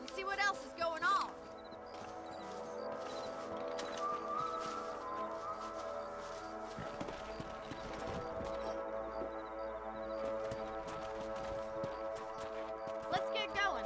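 Horses galloping in the video game Red Dead Redemption, a steady rapid clip-clop of hooves running under game music and ambient sound throughout.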